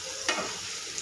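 Vegetables tossed with masala in a kadhai for kadhai paneer: a short burst of close sizzling with a sharp metallic stir scrape near the start and another clink at the end, no talk.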